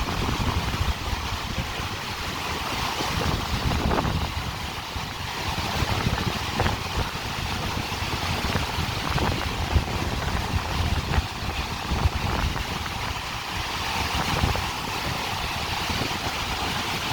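Caspian Sea surf with waves washing steadily ashore, a continuous broad rushing roar mixed with wind and no voices.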